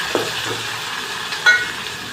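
Tomatoes fry in a pan with garlic and curry leaves for a spiced rice dish, giving a steady low sizzle with a couple of brief stirring scrapes, heard close and alone.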